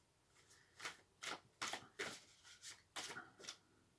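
Tarot cards being shuffled up close, a series of quick papery riffles and flicks in an uneven rhythm, quiet and alone.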